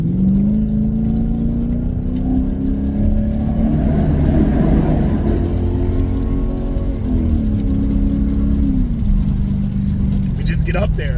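A Mercedes CLK 500 heard from inside the cabin while accelerating on the road, a loud steady engine drone rising in pitch with gear shifts, with someone talking over it.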